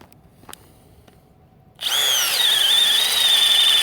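A Milwaukee M12 Fuel Gen 2 hammer drill starts abruptly after a quiet pause and runs loud and steady, its motor whine holding pitch while drilling a 1-inch hole.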